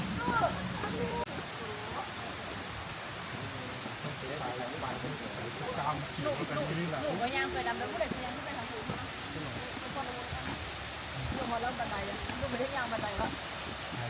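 Steady rushing water of the Mae Kampong waterfall, the first tier, in a hill village, running continuously throughout with voices talking over it.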